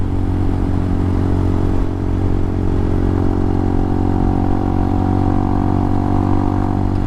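Motorcycle riding at the Isle of Man TT, recorded from the bike, with a steady loud engine drone and hum blended with wind rush throughout, and no talking.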